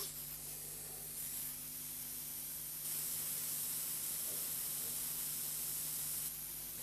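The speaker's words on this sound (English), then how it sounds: "The air flowing into the nozzle at the front of the unit draws solution up a thin tube and converts it into a" A Sherwood M410 flame photometer nebulizer sprays sample solution into a mist, giving a steady, even hiss with a faint hum beneath that grows slightly stronger partway through. No one speaks.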